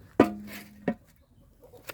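A chicken gives two short, close clucks about half a second apart, then quiet.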